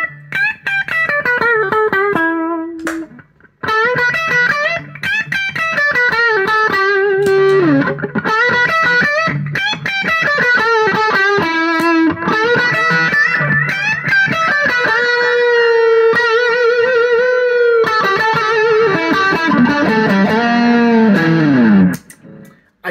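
Electric guitar played through reverb and delay effects pedals, loud sustained melodic notes and slides with echoing repeats and a long wash of tails, brief pauses between phrases, with no voices.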